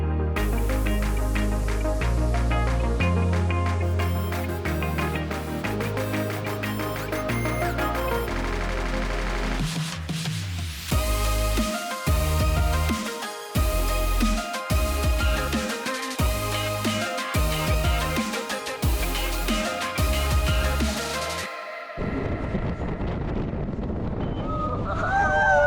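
A Shotover Jet boat roars through a narrow rock canyon, its engine loud and shifting, with rushing wind and water spray, punctuated by bursts and a quieter stretch near the end.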